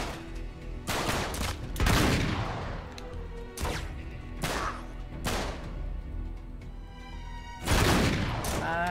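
Shotgun blasts in the video game Uncharted: Drake's Deception, about five loud, close booming shots fired at irregular intervals with ringing decay between them and no talking.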